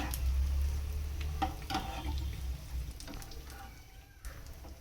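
Edible gum (gond) frying in warm ghee gives a dense, steady bubbling sizzle close up, with a few faint utensil taps and no speech.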